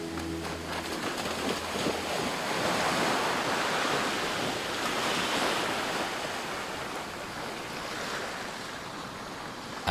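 Ocean waves and wind in the Marquesas Islands, a continuous broad roar of surf with gusting wind buffeting the microphone, steady and fairly loud throughout with no voices.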